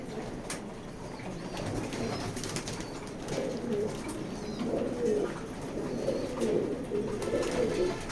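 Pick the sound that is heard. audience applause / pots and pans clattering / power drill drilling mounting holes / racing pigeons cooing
racing pigeons cooing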